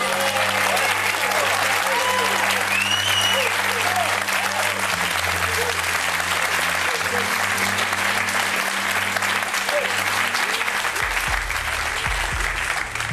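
A studio audience on the UK game show Deal or No Deal applauds and cheers loudly and continuously, dense clapping with shouts mixed in, over a low background hum.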